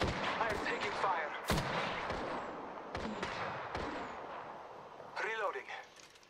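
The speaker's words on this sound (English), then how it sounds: "I am taking fire." Sharp gunshots crack in bursts during an Apex Legends firefight, several loud close reports spaced irregularly, with voices and chatter between them.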